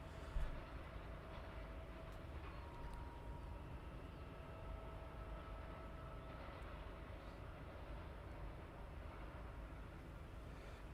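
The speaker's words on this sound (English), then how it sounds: "There's your Tusk 757 taxiing off." A Boeing 757 jet taxis at East Midlands Airport at night, a faint, distant, steady engine rumble with a thin whine held throughout.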